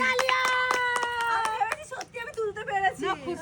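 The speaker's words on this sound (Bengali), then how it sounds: "নীলির জন্য জোরে হাততালি" A family claps loudly for a girl during a home party game, a burst of dense hand claps in the first half second by second, then fading as excited voices and laughter carry on over it.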